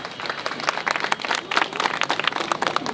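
Audience at a Safe Motherhood Day 2025 ceremony in North Delhi claps for ASHA sisters and health workers, a dense, steady patter of many hands filling the hall for about three seconds with no talk over it.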